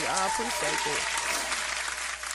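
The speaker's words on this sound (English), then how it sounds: "Clapping it up for your ass for being on my live" Hand clapping during a live stream, a dense, close burst of claps running the whole time, with a person talking over the first second before the clapping continues alone.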